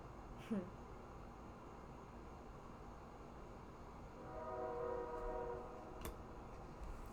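A train rumbles faintly in the distance, and a horn blows a sustained, steady tone partway through before fading. Low background noise stays under the whole sound.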